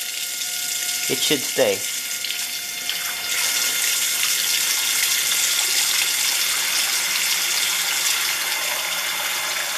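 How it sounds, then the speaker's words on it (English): Tap water runs into a kitchen sink, making a loud, steady rushing stream that fills most of the stretch, with a short spoken remark near the start. "And then you can fill it with water."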